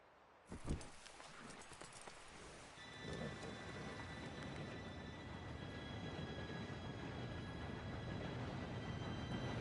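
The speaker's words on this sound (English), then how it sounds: "Train should be here any minute now." In the video game Red Dead Redemption 2, a low, steady rumble builds and holds after a sharp knock, with a sustained mechanical roar of an approaching train, faint and distant.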